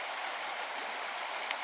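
Water from a stream pours steadily out of a small pool in the wilderness, a continuous bright hiss and rush with no breaks, moderately close and unaccompanied by talk.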